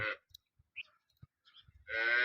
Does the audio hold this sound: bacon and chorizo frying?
no